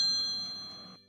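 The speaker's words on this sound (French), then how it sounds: "C'est mon portable qui sonne." A bright electronic chime rings steadily for about a second, sustained tones that cut off abruptly, like a phone's ringtone sounding nearby.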